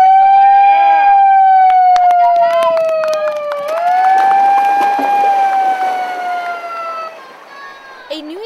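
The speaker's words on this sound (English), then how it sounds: "On the siren." A loud, close siren at a firefighter sports competition wails, sliding down and then rising again in a long sweeping tone, with some faint clatter and noise beneath it.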